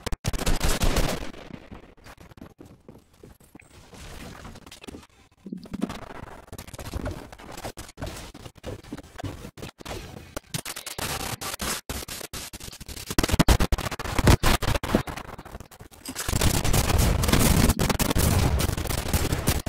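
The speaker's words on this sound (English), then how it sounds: "Okay, you can stop shooting at me now." Rapid gunfire in Fortnite, landing at Tilted Town, crackles in dense bursts across the clip, loudest near the start and again in the final seconds, with a quieter lull in between and no talking.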